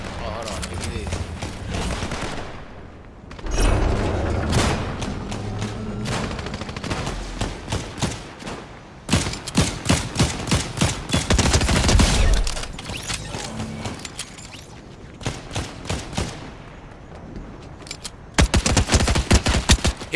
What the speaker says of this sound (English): Here a couple of shots